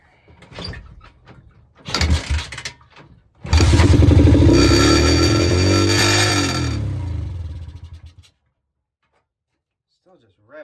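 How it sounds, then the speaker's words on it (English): An Apollo 125 motorcycle with a running problem sputters in short bursts, then revs high and loud for about five seconds before cutting off abruptly. "Still just revs way up there,"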